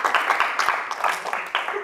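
A brief, lively round of clapping from the audience at an Indonesian comedy show, with close, crisp claps over about two seconds, mixed with voices in the room.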